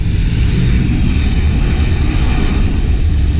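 An American Airlines airliner approaches to land at Heathrow Airport, its engines a loud, steady roar that stays constant and dominates the scene.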